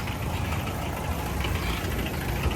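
A Premier Padmini car engine runs with a steady, rough low rumble, close and continuous, with no talking.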